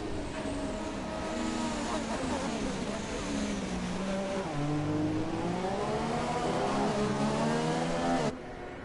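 Haas Formula 1 car in an F1 video game, engine revving up and down in wavering pitch sweeps as it weaves to warm its tires, other engines droning behind, steady and loud until an abrupt cut near the end.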